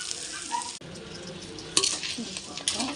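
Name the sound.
crab added to frying masala in a pan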